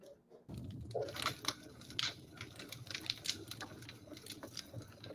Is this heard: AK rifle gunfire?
no